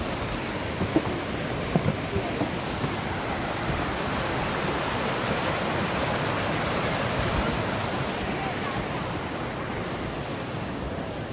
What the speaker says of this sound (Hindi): ये पूरी बर्फ जमी हुई है और वाटरफॉल ऊपर से।